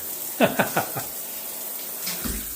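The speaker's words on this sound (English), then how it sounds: "We actually have a working shower." A shower runs from a newly installed faucet in a bathroom under renovation, a steady rushing hiss that continues throughout, with a few brief sharp sounds near the start that may be a voice.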